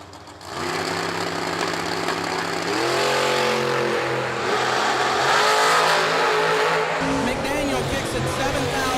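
Drag race cars launching at an old school bracket race, including a dragster, with loud engines revving up and roaring close by, rising in pitch as they pull away, while an announcer talks over the sound.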